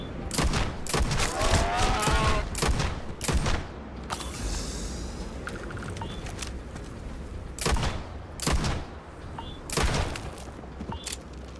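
Explosions and gunfire during a fight with creatures in the video game Starfield. Rapid bursts of shots and booming blasts come in clusters, separated by quieter stretches with a low background hum.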